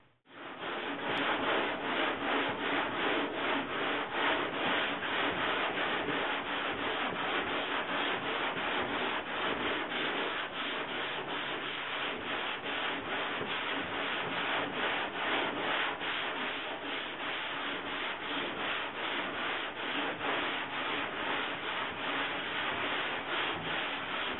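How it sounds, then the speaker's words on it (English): Steady, continuous rasping of a sanding block worked back and forth over a 1965 Ford Mustang body panel, loud and close, with a fast regular stroke rhythm running for the whole stretch and no talking. "when you have the right block and you're sanding the right way, it makes it a lot easier."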